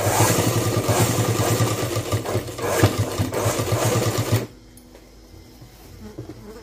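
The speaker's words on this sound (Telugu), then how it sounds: "ఇలా పైనుంచి ఒక కుట్టు అనేది వేసుకుంటూ రండి." A sewing machine stitching a school uniform skirt, whirring with a rapid buzzing rhythm up close, then stopping abruptly, leaving a quiet hum.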